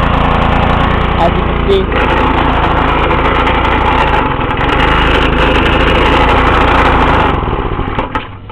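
A cheap Chinese pressure washer's flathead engine runs steadily and close by, a constant buzzing drone with odd irregular noises, while a person speaks briefly over it.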